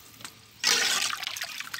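Water poured into a cooking pot while making chicken dum biryani, a sudden gushing splash that starts partway through and continues strongly to the end, close and alone.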